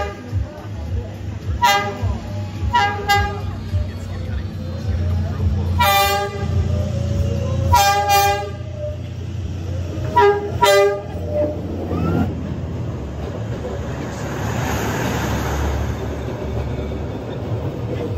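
A train rolls slowly along Hanoi's narrow train street, sounding several short horn toots followed by a longer blast while the heavy rumble of the wagons continues underneath, with faint crowd voices around.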